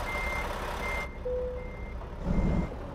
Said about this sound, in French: vous avez entendu le petit bip aussi